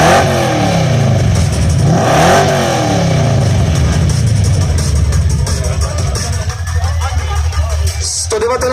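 A car engine revs hard for an exhaust loudness measurement, with loud rising and falling roars and a sharp vroom near the start, then settling into a rough, throbbing idle while voices are heard faintly over it.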